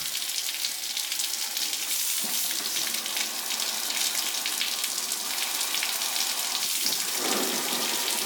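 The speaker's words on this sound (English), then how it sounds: "Just get your garden hose on full tilt boogie, stick it in there, and just let it run." A garden hose at full flow pours water into the frame of an abandoned 1977 Pontiac Grand Safari station wagon, making a steady close hiss and splatter with brief gurgling shifts and no talk.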